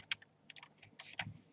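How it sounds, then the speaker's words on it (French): Computer keyboard typing during Minecraft play, a few scattered clicking keystrokes over about a second and a half, fairly quiet and close, with no talk. "vous aurez tout le temps les bruits de clavier et tout"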